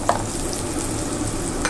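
Chopped onion sautés in a pan as the first step of pancit bihon guisado, giving a steady close sizzle and frying hiss with brief utensil scrapes at the start and end.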